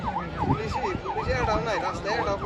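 A wailing ambulance siren sweeps up and down in a steady repeating cycle, loud and fairly close, over low traffic rumble.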